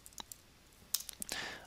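Keys on a computer keyboard click in quick, faint, scattered taps during CAD modelling work, some sharper clacks near the end, in a quiet room.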